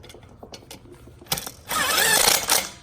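A ratchet with a 10mm socket tightens bolts on a 6-quart Prometeo oil pan on a Fiat 500 Abarth, giving a few faint clicks and then a louder, steady run of ratcheting near the end.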